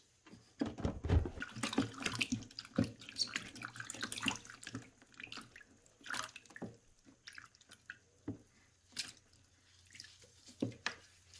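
Madder-dyed fabric rinsed under running tap water in a sink, with splashing, dripping and sloshing in irregular bursts as the cloth is moved, close and moderately quiet.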